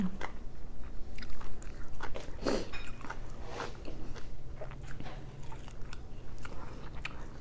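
Som tam papaya salad with grilled mackerel being eaten up close, with crisp bites and crunchy chewing at irregular intervals. Background noise is low, and no one speaks.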